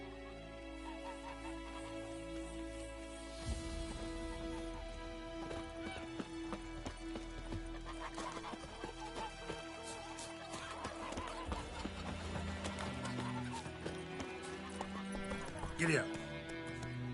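Horse hooves clip-clopping and breaking into a run in The Witcher 3 video game, rhythmic steady beats with a whinny, layered over game music and brief character speech.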